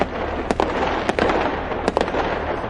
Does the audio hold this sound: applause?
no